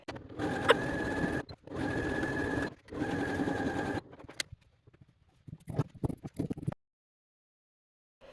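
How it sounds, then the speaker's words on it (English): A sewing machine stitches a tote bag lining in three steady, close runs of about a second each, separated by short pauses, followed by softer fabric handling and clicks before silence. "First, sew around 3 of the 4 sides to construct the bag."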